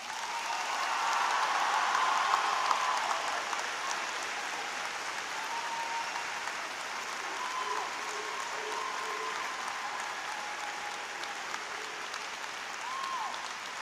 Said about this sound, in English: Please join me in a round of applause for Mr. Schuster.